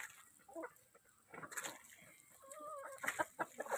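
Chickens clucking on a muddy, rain-soaked farm at feeding time, several close birds giving short clucks and trilled calls in an irregular stream that grows busier toward the end.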